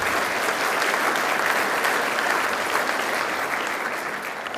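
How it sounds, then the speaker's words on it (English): A Chamber of Commerce awards audience in the Wausau region gives local manufacturers a round of applause, dense steady clapping from many hands that holds for several seconds before tapering slightly. "I think that deserves a round of applause."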